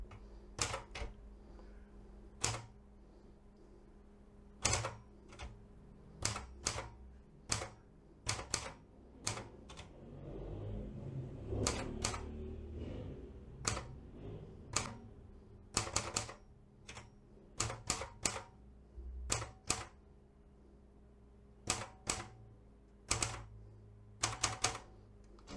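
Sharp, crisp keystrikes on a Seiko manual typewriter with an F-keyboard layout, coming in quick irregular bursts with short pauses, close and clear over a faint background murmur.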